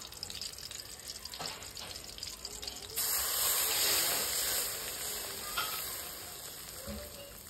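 Water is poured into a bowl of mixed mustard, cumin and green chili paste for a shorshe ilish dish, a steady close splashing that swells midway and then settles into a softer trickle.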